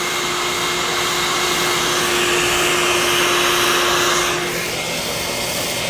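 A vacuum machine carrying powder runs with a loud, steady airflow roar and a constant hum, easing slightly near the end, with no talking throughout.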